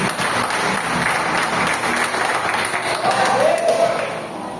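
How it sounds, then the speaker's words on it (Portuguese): Church congregation applauding during a Portuguese-language worship service: a dense, steady wash of clapping from many hands that fills the whole stretch at an even loudness. "Aplauda o Senhor em Jesus Cristo."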